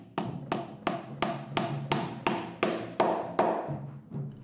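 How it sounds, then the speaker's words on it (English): Tacks are hammered into the leather head of a taiko drum, about a dozen sharp, evenly spaced strikes ringing with a short resonant decay, close and steady. "Robert starts pounding each of the tacks"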